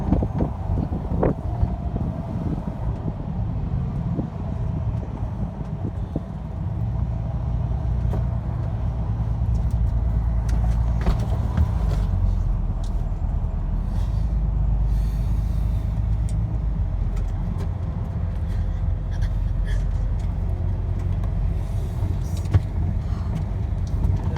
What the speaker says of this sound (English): Finally, we arrive back at Inverness bus station